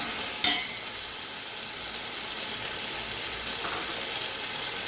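Vegetables for green chili vegetable pulao sautéing in a pan, a steady broadband sizzle with a sharp clink of the spoon near the start, otherwise an even, unbroken frying hiss with no voices.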